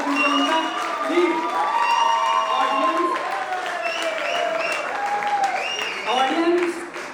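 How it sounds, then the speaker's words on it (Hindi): Audience at an Indian wedding sangeet night breaks into applause and cheering, a steady wash of claps with whoops and excited shouts rising over it, lively and sustained throughout. "प्लीज जोरदार तालियों से स्वागत कीजिए उनका।"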